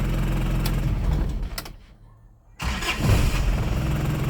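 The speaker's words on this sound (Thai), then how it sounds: "ครับสตาร์ทง่าย" Engine of an old 1994 Isuzu TFR pickup cranking and catching, running steadily, briefly dropping out, then restarting and settling into a rough idle close by.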